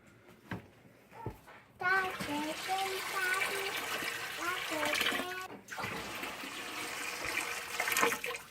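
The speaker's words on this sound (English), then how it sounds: "I already poured 10 of these half-gallon jars of water in here" Cold water pours and splashes steadily from half-gallon jars into a large pot for bone broth, gurgling after a couple of short knocks, with a voice chattering over it.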